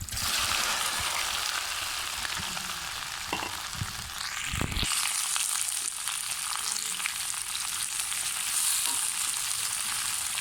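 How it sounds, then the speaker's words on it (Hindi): Okra fries in half a cup of hot oil in a kadai, a steady loud sizzle throughout, with a few brief clatters of stirring partway through and no talking. "ऑयल काफ़ी गर्म हो चुका है और अब इसमें हमने भिंडी ऐड करनी है फ्राई करने के लिए।"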